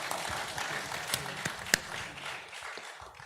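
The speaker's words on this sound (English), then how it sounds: "A round of applause for." An audience at a business breakfast meeting applauds briefly, a short burst of scattered clapping that thins out over a few seconds.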